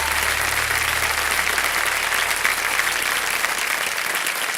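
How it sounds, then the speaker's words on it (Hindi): Sustained studio audience applause on a TV quiz show, loud and steady throughout, a dense wash of clapping from a crowd with no talking. "एक बार फिर जोरदार तालियों के साथ।"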